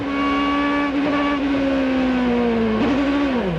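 A 2006 Indy race car engine screams steadily at high pitch and drops in tone as the car spins out on pit road, with a brief scrub of tires near the end; loud and close throughout.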